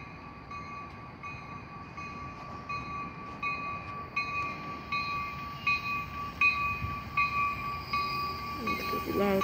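A TRE commuter train arrives at EBJ Union Station, a rumbling approach with steady tonal whine and rising clatter as it draws nearer, with faint voices nearby.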